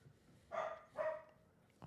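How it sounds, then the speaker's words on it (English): A dog barks twice in quick succession, moderately loud in the background, with a faint third yelp near the end, heard during a live stream of the Buccaneers vs Commanders football game. "Lovely barking in the background."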